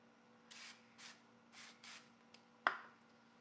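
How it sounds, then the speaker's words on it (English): Five short bursts of an aerosol spray hissing close by, evenly spaced, then a sharp knock or tap, no talk. "just sprayed it a little bit so it helps."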